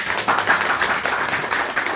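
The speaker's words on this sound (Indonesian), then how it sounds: "Tepuk tangan dulu dong" An audience at a home-sharing event in Banjarnegara applauding, a dense, steady patter of many hands clapping at moderate loudness for two seconds.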